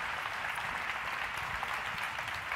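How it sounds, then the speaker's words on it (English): Steady applause from an audience for a group of women, dense and continuous clapping filling the whole stretch without pause. "a big round of applause for them"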